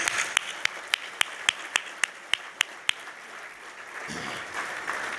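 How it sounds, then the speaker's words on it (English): Applause at an awards dinner starts with a handful of sharp, evenly spaced claps, then blends into a softer, sustained ripple of audience clapping that carries on to the end. "Let's give Todd and his team a round of applause."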